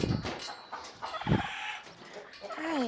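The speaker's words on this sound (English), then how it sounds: "there you go, little chicken" Chickens cluck in short, scattered bursts while being moved out during a farm bird transfer, close and moderately loud, with a few brief voices and handling noises mixed in.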